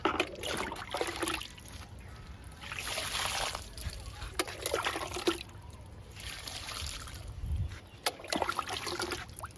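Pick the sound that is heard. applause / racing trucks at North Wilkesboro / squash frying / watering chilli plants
watering chilli plants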